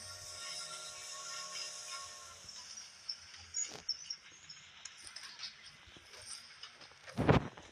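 A steady high hiss from a train in PUBG Mobile fills the scene with a low mechanical hum, scattered clicks and thuds, and a sharp loud burst near the end.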